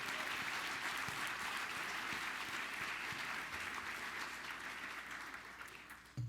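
Sustained applause from a large audience at a book critics' awards ceremony fills the hall steadily at high volume, then slowly thins toward the end.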